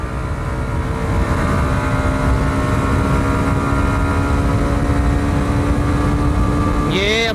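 A Hero Xtreme 125R motorcycle engine drones loud and steady at high revs in fourth gear, with a brief rising whine as the next gear goes in at the end, no voices over it.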